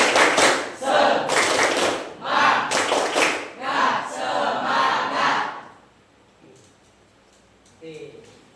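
A classroom group performs a rhythmic 'tepuk semangat' clap chant, voices shouting in unison with bursts of clapping in a quick pattern for about six seconds, then near silence with a faint voice at the end.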